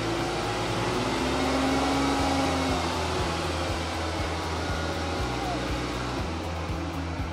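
Car engine revved and held around 2500 RPM during a charging-system ripple test, a steady loud drone with a constant whir and fan-like hiss throughout, close by and without pauses.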